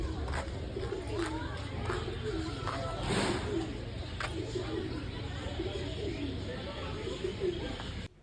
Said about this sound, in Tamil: இது எல்லாமே வந்து புறா தான்